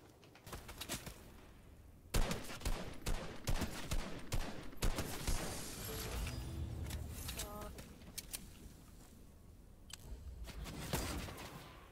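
Gunfire in the video game Fortnite, sharp shots in irregular bursts and single cracks over a busy game soundscape, with people talking.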